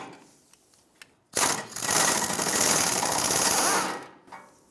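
A ratchet with a 13mm socket undoing the bumper bolts on a 1996-2002 Toyota 4Runner gives a loud, rapid burst of clicking that lasts about three seconds, with quiet workshop noise before and after.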